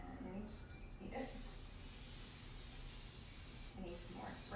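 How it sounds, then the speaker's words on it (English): A can of cooking spray hisses in one long continuous burst after a couple of short puffs, close and loud in a kitchen during breakfast meal prep, with a voice briefly heard at the start. "And then I'm gonna spray this and eat it."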